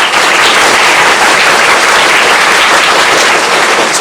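A classroom of engineering students claps hard all together, a loud, dense, continuous wash of applause filling the room.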